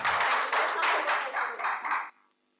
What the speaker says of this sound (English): Can we have a huge round of applause for these professors?